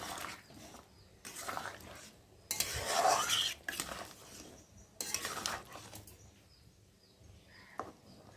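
A utensil scrapes and clinks against a pot in several bursts of stirring as sugar is mixed into a dish cooking with egg, separated by quieter pauses with no talking.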